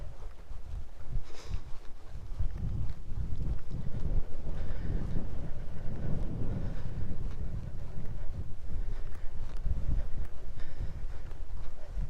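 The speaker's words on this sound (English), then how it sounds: "Sorry, we're a bit open here, so it's a bit windy." Strong wind buffets the microphone on an open, exposed stretch of the Wainfleet Bank walk in the Lincolnshire countryside, a continuous loud roaring rumble with gusty surges throughout and no voices.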